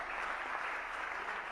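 Audience applause at a public event honouring Rajasthan's new chief minister, a steady wash of many hands clapping at close range, continuous and fairly loud throughout with no talking.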